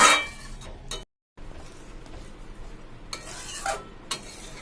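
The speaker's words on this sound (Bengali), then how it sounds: "এবার একটু গরম জল দিয়ে দিলাম।" Hot water goes into a simmering spiced chicken curry, bringing short sizzling bursts and metallic clinks of a spoon against the pot, close by and separated by quieter stretches.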